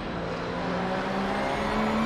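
A race car in the Assetto Corsa racing sim passes close by with a steady engine drone that swells slightly toward the end, heard alone with no talk.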